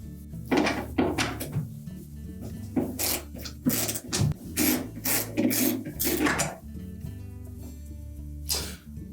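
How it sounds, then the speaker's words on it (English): Quarter-inch hex head screws are worked loose from a defective door bracket on the freezer ceiling of a Whirlpool refrigerator, giving a close series of ratcheting, scraping bursts with short pauses between them and no talking. "Now we can remove the defective bracket. It's held to the ceiling of the freezer with 1/4-inch hex head screws."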